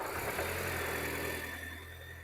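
A car engine idles steadily during a crankcase blow-by check with a pressure gauge, a low even hum with faint mechanical ticking, heard close and alone with no talking.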